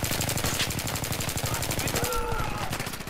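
Rapid automatic gunfire in Battlefield 3 multiplayer rattles in fast, steady bursts across the whole stretch, loud and close, with a voice talking briefly over it.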